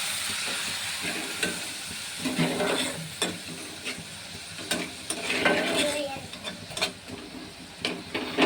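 Curry being stir-fried in a pan after water is added, a continuous close hiss and bubbling sizzle with repeated scraping strokes of a spatula throughout.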